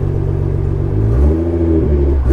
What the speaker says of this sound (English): exhaust note sample here.